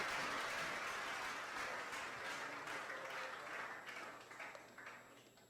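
Audience applause at a campaign launch event, a broad wash of clapping from a crowd, fairly faint and distant, slowly fading over a few seconds.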